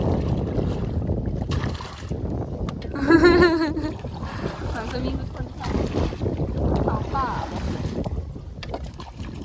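Wind gusting past a small rowing boat on floodwater, with rumbling wind buffeting the microphone close up throughout and people talking in Lao over it.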